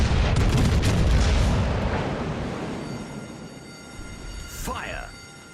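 15-inch naval guns firing in the World of Warships: Legends video game, a heavy booming blast that fills the opening then slowly rolls off, with a brief voice near the end.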